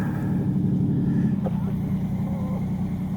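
An Arrma Sonicwake RC boat with a 40 mm big-block motor on 6S power runs across water, a continuous droning motor hum that stays steady and fairly close, with faint voices around it.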